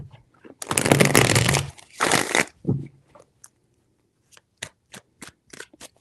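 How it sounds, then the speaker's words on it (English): Tarot cards are shuffled in two loud riffling bursts close to the listener, followed by a series of sharp, separate taps as the deck is squared and cards are laid down. "Three shuffles."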